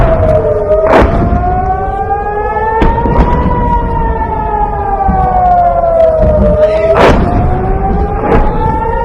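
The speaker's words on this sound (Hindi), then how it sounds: "इजरायली शहरों में सायरन बजना शुरू हुए हैं" Air raid sirens wail across Israeli cities at night, several rising and falling tones overlapping in a loud, continuous drone, with sharp bangs and thuds breaking through at intervals.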